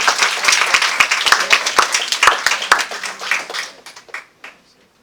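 An audience at a public forum on scams breaks into dense, loud applause that rolls on for several seconds, then thins to a few scattered claps and fades out.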